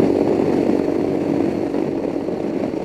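A Royal Enfield Himalayan, heavily modified as a dirt bike, runs at around 6,000 RPM while cruising near 65 mph on the road, giving a loud, steady, buzzing engine drone that holds constant throughout.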